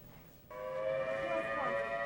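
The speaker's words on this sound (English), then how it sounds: "Repeatedly throughout the day, air raid sirens wailed across Kuwait City." An air raid siren wails across Kuwait City during the 2003 Iraq War, a steady tonal drone that starts abruptly partway through and holds loud to the end.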